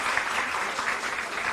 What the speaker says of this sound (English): he deserves a big round of applause for this